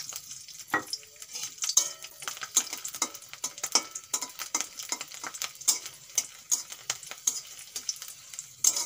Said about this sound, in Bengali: কড়াইতে তেল দিয়ে দেব, সামান্য একটু তেল দিয়েছি। তেলের উপরে দিয়ে দেব 3-4 কোয়া রসুন আর 2টো শুকনো লঙ্কা।